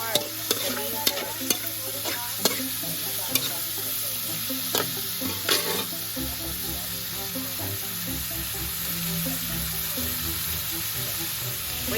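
Mushroom and pork hit a hot pan for Bam-e noodles and sizzle loudly and steadily, with sharp scraping clicks of a stirring utensil early on before the frying settles into an even hiss.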